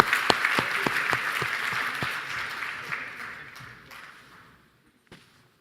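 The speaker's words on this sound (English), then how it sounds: "give a round of applause to all my team" Applause at a blockchain conference panel, a burst of audience clapping with a few sharp individual claps, fading away over several seconds to near silence.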